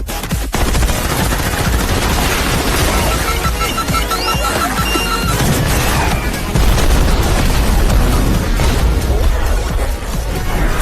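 Missile explosions and rapid machine-gun fire from an aerial combat scene, a loud, dense, continuous barrage of overlapping bursts and booms with no pauses, filling the whole stretch.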